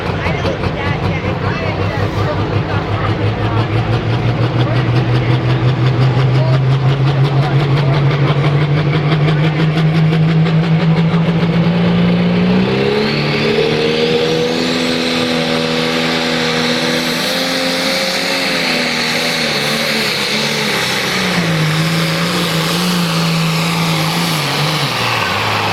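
A pulling tractor, an International, roars at full throttle during a tractor pull, its engine pitch climbing steadily and then wavering under load. The engine is loud and continuous, with a commentator talking over it.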